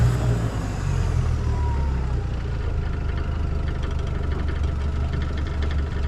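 A Mercury 150 jet outboard on a boat runs steadily through its first break-in ride, a loud, continuous low engine drone with constant water and wind noise and no talking.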